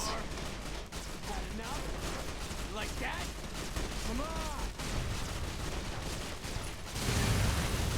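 Gunfire in the video game Fallout: New Vegas: rapid bursts of shots crackle continuously with a few ringing in-game effects, fairly loud throughout, ending in a denser rumble.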